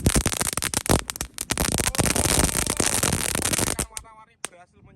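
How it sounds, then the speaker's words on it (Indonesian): A mercon kretekan firecracker sputters off in a rapid, dense burst of loud crackling pops for nearly four seconds before dying away into a few faint snaps. "Selanjutnya kita nyalakan mercon kretekan"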